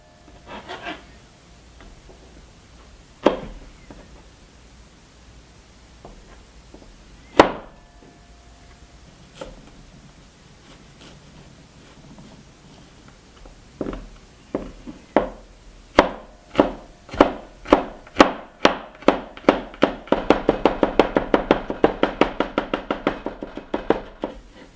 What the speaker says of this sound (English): The garlic needs to be chopped finely.